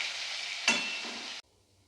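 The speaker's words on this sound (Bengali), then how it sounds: "পরিমাণ মতো হলুদ দিয়ে দেবো দিয়ে এটাকে ভালো করে আমি লাল করে ভেজে তুলে রাখবো" Prawns frying with turmeric in a pan give a steady, close hiss of sizzling with one brief stir or scrape partway through, then stop abruptly.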